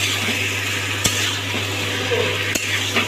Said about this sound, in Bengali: ভালোভাবে নাড়াচাড়া করে মিশিয়ে নেব মাংসটা।